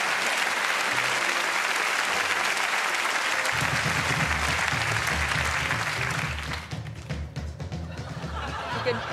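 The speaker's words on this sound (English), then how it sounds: "Round of applause for him" A theatre audience at a televised magic show claps loudly in sustained applause that fades near the end into lighter scattered claps and a few chuckles.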